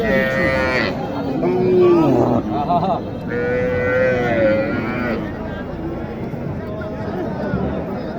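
Sahiwal cattle at a busy village livestock market in Naogaon low out in long, drawn moos, two or three calls up close, rising over a murmuring crowd and nearby chatter.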